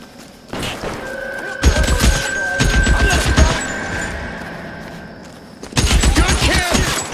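Gunfire in the L.A. Noire video game: several bursts of loud, rapid shots in clusters, with a sustained tone and voices talking between the volleys.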